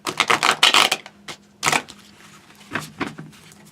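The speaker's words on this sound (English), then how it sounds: "let me shuffle like this real quick" Tarot cards shuffled close by in several crisp, crackling bursts, busiest at the start and then more scattered, with no one talking.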